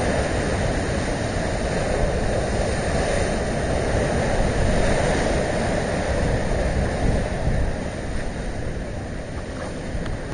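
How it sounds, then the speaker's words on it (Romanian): Sea waves surge and crash steadily along the seafront promenade at Constanța in January, a loud continuous roar with heavy wind noise on the microphone and no talk. "Frumoase valuri!"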